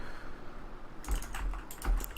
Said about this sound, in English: Please excuse the loud mechanical keyboard.